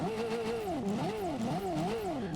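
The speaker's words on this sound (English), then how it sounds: "The engine sounds dope." Vehicle engine in a Stranger Things themed Fortnite item, revving up and down in smooth repeated swells, a steady synthetic motor drone heard alone and close.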